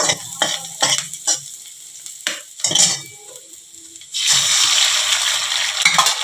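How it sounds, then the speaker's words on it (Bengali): Eggs going into a pan of fried onion for spicy semolina upma, first a few clinks and stirring scrapes, then a loud steady sizzle that takes over the second half. "এতেই আমি অ্যাড করে দেবো ডিমগুলো"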